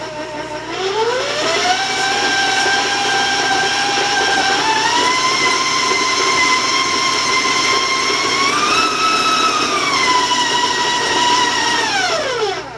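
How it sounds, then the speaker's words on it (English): A stand or hand electric mixer runs loud and steady through oatmeal applesauce cookie dough with chopped walnuts, its motor whine rising as it starts, shifting pitch mid-run, then winding down near the end. "And then I'm going to turn my mixer on"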